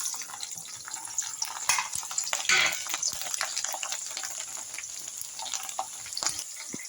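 Dried red chillies fry in hot oil for a Rayalaseema-style lime pickle, giving a steady crackling sizzle with clinks of a stirring spoon and a few louder pops.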